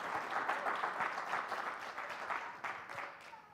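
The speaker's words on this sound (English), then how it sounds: "can we just give a round of applause for Bryce and the work that he did?" A congregation at a Sunday church service applauding together, a steady wash of many hands clapping that holds for several seconds at an even level before thinning slightly at the end.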